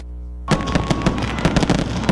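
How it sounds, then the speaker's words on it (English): Fireworks over an Independence Day celebration and flag-raising at a park, a dense run of popping and crackling bursts that starts abruptly after a short quiet moment and keeps going loudly. "It was a kaleidoscope of colors as fireworks littered the skies"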